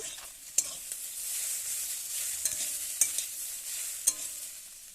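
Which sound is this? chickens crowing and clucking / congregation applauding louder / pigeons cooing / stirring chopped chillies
stirring chopped chillies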